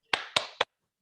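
Three sharp, evenly spaced claps from the 'tepuk semangat' group clap routine ring out quickly and fairly faintly within about half a second, then silence follows.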